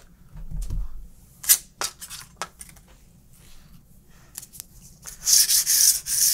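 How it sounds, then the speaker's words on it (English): High-grit sandpaper rubs by hand along the edge of a 1994 Guild JF4-12 guitar neck, giving short, close scratchy strokes in irregular bursts that grow into a quicker run of rubbing toward the end, with a low thump early on. "I'm gonna take some high grit sandpaper and just do some final touch-ups on that."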